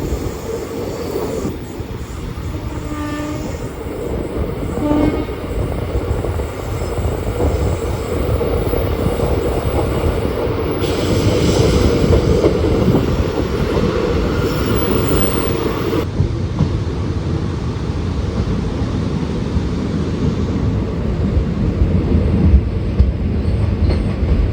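Kottayam Express train running through Nagercoil Town station without stopping, a steady close rolling rumble of wheels and carriages with rhythmic clatter continuing throughout, loud and unbroken, no voices.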